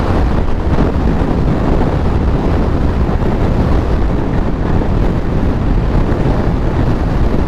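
Strong monsoon storm wind buffets a rider on the road, a loud, constant roaring rush of wind noise that fills the whole stretch without letup and with no talking.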